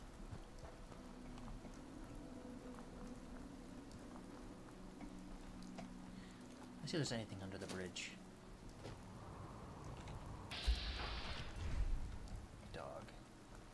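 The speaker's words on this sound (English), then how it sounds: "Going out in the rain." Rain falls steadily in the video game Fallout 4, a soft continuous patter under game ambience, with a few louder effects and someone talking briefly midway.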